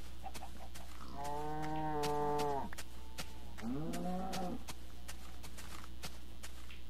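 Minecraft cows mooing in the game, two long drawn-out moos one after another, loud and close over a steady low hum with faint clicks.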